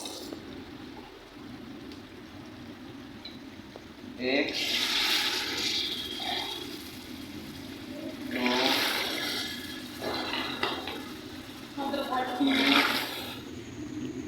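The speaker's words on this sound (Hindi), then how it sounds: "ये जी मैंने डाले हैं 7 कप पानी इसमें।" Several cups of water poured into a pot of soaked rice for chicken pulao, heard as bursts of splashing pouring at close range, with a voice counting in between.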